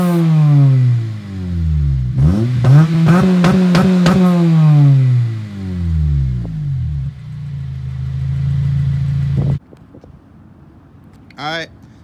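Acura RSX Type S exhaust heard from the rear, with loud revving that climbs and falls, several sharp blips in a row, then a steady idle before cutting off; faint brief sounds follow.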